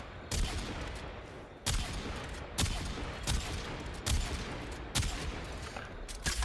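Kuva Quartakk gunfire in Warframe, sniping at enemies: a series of sharp, loud bursts spaced about a second apart over a steady bed of game noise, with no talking.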